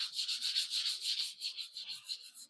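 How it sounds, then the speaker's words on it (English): Close, steady back-and-forth rasp of sandpaper on filler primer during car bodywork, a rhythmic scratchy hiss in quick strokes with no voices. "I'm sanding the filler primer."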